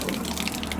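Water runs from a bathing pipe in a steady, close, fairly loud splashing gush with no breaks.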